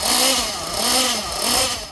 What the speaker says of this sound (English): then I'll give it some good throttle punches